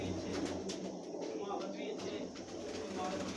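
Pigeons coo softly on a rooftop loft where racing pigeons are kept, low murmuring calls under a steady outdoor hiss with faint chirps.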